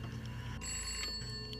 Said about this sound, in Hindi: ये किसका फोन हो सकता है?